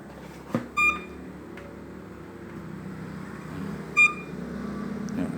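Two short electronic false-signal beeps from a metal detector set too sensitive, one just after the start and one near the end, over a steady low background hum.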